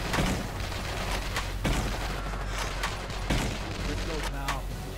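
Video game gunfire from a team shooter match, with repeated sharp shots and bursts over continuous battle noise, while a player talks over it.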